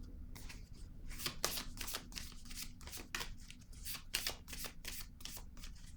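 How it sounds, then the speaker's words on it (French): Tarot cards are shuffled and drawn by hand, a quiet close-up series of crisp riffling bursts and soft slaps in an irregular rhythm, without any talk. "Je vais piger une autre carte."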